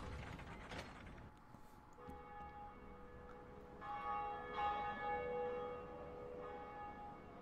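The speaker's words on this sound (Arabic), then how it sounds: "هذا الجرس الاول رنيناه" Church bell tolling in Dark Souls Remastered: a deep resonant ring with a long humming decay, preceded by mechanical clanking of the bell mechanism, moderately quiet.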